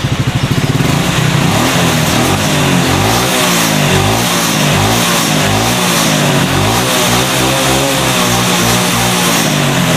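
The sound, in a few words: motorcycle engine revving with throttle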